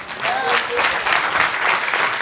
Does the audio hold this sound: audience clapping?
yes